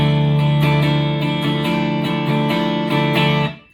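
Electric guitar with its active pickup circuit switched on, ringing out a bright, sustained chord with several rhythmic re-strums, fairly loud and close, then cut off abruptly.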